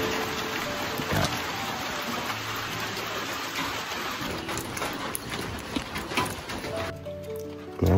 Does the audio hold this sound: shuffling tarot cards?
no